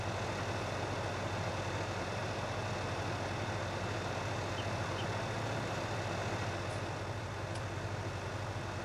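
A tractor engine runs steadily in Farming Simulator 2019, a constant low droning rumble that holds level throughout with no talking.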